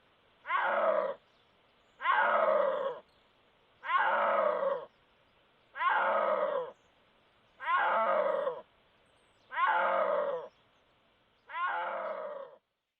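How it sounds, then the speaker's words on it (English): Snow leopard calls in the Himalayas: seven loud, resonant moaning calls, each about a second long, repeated at steady two-second intervals with silence between, close and alone with no talk. "the snow leopard cannot roar. Instead, it produces resonant calls that can carry across an entire river."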